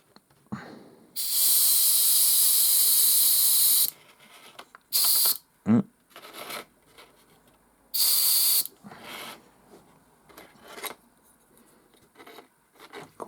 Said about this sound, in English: So gunmetal, because I want to make it look a bit on the dirty side later on. So just going to spray these up.